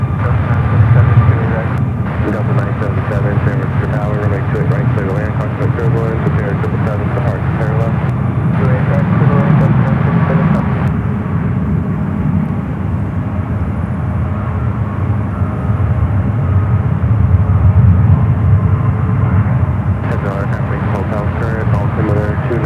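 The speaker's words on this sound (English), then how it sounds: "Got the flight to Singapore up next for takeoff." A jet airliner bound for Singapore takes off at SFO, a loud sustained engine roar that swells and rumbles, with a voice talking over it for much of the time.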